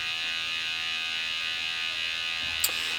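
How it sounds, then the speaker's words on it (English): A RAE Systems wireless gas monitor buzzer sounds as a steady, continuous electronic tone with a faint hum underneath, even and unbroken, with a tiny click near the end. "And you can see I can have buzzer on and off."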